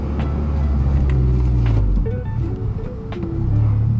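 A 9th gen Honda Civic Si with a manual gearbox pulls away under a learner driver, its engine note climbing, dropping briefly for a gear change, then rising again, heard from inside the car.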